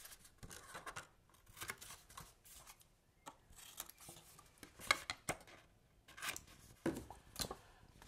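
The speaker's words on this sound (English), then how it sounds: "Cut off the tabs as the corners as usual." Scissors snipping paper tabs at the corners of a parallel-fold pop-up card, a series of short, crisp close-up cuts in irregular bursts with quiet handling of the card in between.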